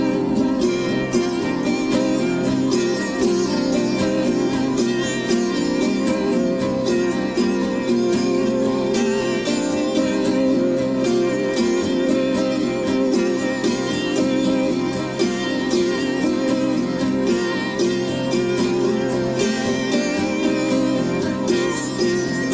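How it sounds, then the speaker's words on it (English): A dense, continuous sitar-like riff with a steady, repeating pattern, sustained at even loudness throughout with no talking. "okay, so I guess you'd call it the sitar riff, which sounds like this."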